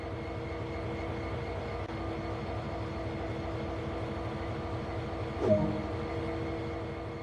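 A locomotive idles steadily in a train simulator game, its diesel drone humming evenly throughout with a brief metallic clank partway through, no voices present.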